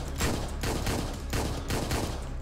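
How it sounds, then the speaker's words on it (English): Rapid gunfire in the top-down shooter Hotline Miami 2: Wrong Number rolls on as a loud, continuous fusillade, with several sharper bursts recurring roughly every half second. "Oh, he shot me once."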